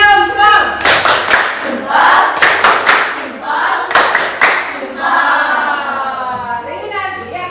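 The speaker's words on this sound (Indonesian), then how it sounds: "kita berikan tepuk jempol ya untuk kelompok 2 sebagai kelompok yang teraktif" Schoolchildren in an Indonesian primary classroom clap a rhythmic 'tepuk jempol' chant together, sharp claps in quick bursts mixed with their shouted voices, loud and close.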